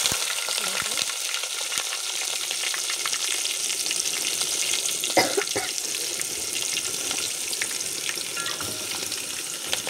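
Onions and green chillies sizzle steadily in a hot pan while cooking a country chicken gravy, a dense continuous crackle with a few louder pops and clinks midway, no voices.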